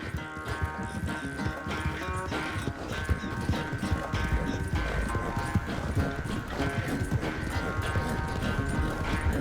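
Horse hooves clip-clop steadily in Red Dead Redemption 2, a continuous rhythmic trot under a dense layer of game ambience and music.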